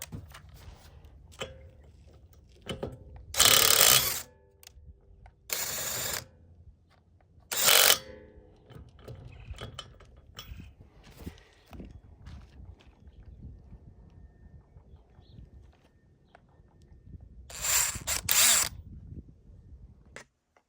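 An 18V SubCompact brushless 1/2 in. right angle impact wrench in auto mode fires in four short, loud, rattling bursts, with three close together early on and one later, separated by quiet pauses.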